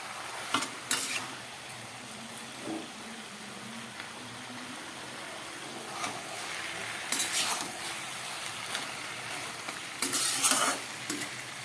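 Vegetables and a fish head being stirred in a pan while cooking Malabar spinach curry, a close, even sizzle broken by a few bright clinks and scrapes of the spoon against the pan.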